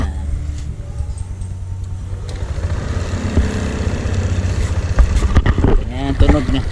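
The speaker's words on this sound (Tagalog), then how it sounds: "Ayan, smooth yung tunog. Ayan. Ang tambutso. Maganda yung tunog niya." A Yamaha NMAX scooter engine idles with a steady low exhaust rumble, revving slightly louder toward the end while people talk over it.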